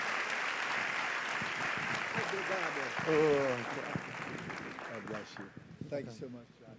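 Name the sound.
church audience applauding to welcome pastor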